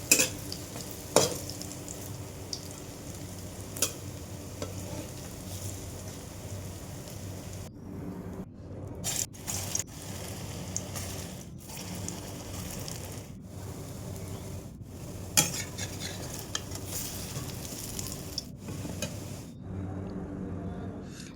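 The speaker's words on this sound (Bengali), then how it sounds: "এক এক করে সব বড়া ভাজা হয়ে গিয়েছে" Masoor lentil fritters (bora) sizzle steadily in hot oil in a home kitchen, a continuous close crackle with occasional sharp scrapes and taps as they are turned in the pan.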